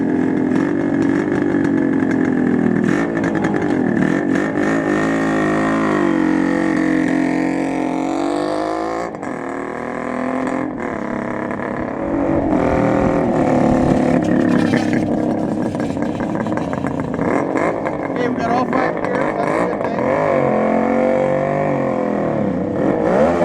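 A restored 1971 Kawasaki H1 500 three-cylinder two-stroke motorcycle engine runs steadily at close range, its loud buzzing drone rising and falling with revs and throttle blips throughout.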